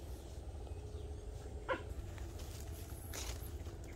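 Dogs roaming a coconut grove during a rat hunt in Sóc Trăng give a couple of short, faint yelps at a distance over a steady low rumble of background noise.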